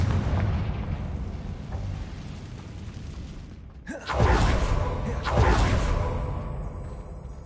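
A Confringo spell explodes in the Hogwarts Legacy video game, with a low rumbling background giving way to a sharp whooshing blast around the midpoint, then a second booming burst and a lingering roar.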